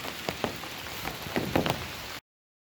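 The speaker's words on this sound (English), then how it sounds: "The rain's coming down." Rain falls in the woods on a wet day's hike, a close, steady patter with scattered sharper drops and knocks on surfaces, continuing for about two seconds before cutting off to silence.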